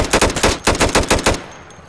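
A gun firing in the Insurgency shooter game, a fast close burst of about a dozen sharp evenly spaced shots that stops abruptly and leaves a short quiet tail.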